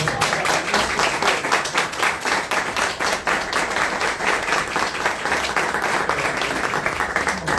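Audience at a community talk on sustainable home tips gives a sustained round of applause, steady dense clapping from many hands lasting several seconds, close and fairly loud with no talking over it.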